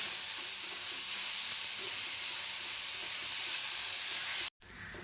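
Onion softening in a pan gives a steady, even sizzle and hiss that holds unchanged for most of the stretch, broken by a brief dropout near the end before the frying noise resumes.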